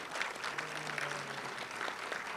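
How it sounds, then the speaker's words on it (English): Audience applause at a city banquet honoring award winners for a mayor's committee on persons with disabilities, a steady wash of clapping sustained at moderate level throughout with a faint low hum beneath. "Keep the round of applause going for all of our winners this afternoon."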